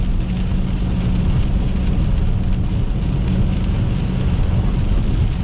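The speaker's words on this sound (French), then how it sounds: "on est direct à côté du rideau de pluie" Heavy storm rain pours in a dense, steady roar right beside the listener, loud and unbroken throughout, with a deep low rumble beneath the hiss of the downpour.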